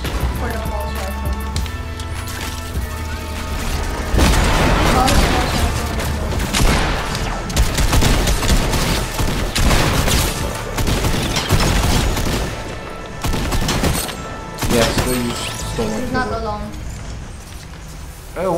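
Pulse rifle in Fortnite Chapter 2 Season 7, loud rapid bursts of gunfire repeating through most of the stretch alongside booms and game effects, with a player talking over it.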